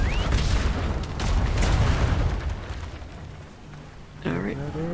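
Mortar fire in a Garry's Mod roleplay game, a heavy rumbling barrage of booms that swells through the first half, fades, then returns briefly with a voice speaking near the end.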